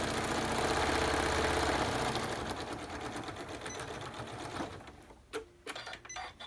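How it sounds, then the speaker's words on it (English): A sewing machine stitching rows of a fleece rag quilt, a loud, fast, even mechanical whir that runs steadily, then slows and breaks into a few short bursts and clicks near the end, with no talking. "And then I just flip it to this side like so, and I sew an inch down."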